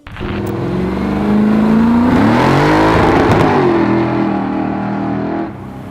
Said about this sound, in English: So let's jump in with Nick, go for a little run down the road and spin some tires, man.